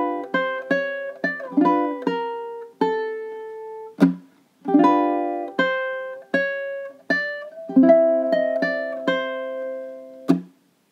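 Measures 9 through 12 of a song on ukulele: a lively run of plucked chords and single notes with ringing sustain, punctuated by a few sharp muted strums, played close and alone for about eleven seconds.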